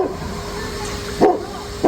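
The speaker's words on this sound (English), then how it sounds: "I got some dogs barking at me" Two sharp dog barks ring out at a distance, spaced about half a second apart near the end, over steady outdoor background noise with a faint insect-like tone, no talking.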